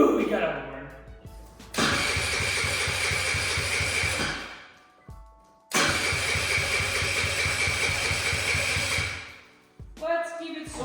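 A cheap marketplace vehicle cranks and fires up twice, each time settling into a loud, steady close running engine before cutting out. Brief handling noises sit between the attempts.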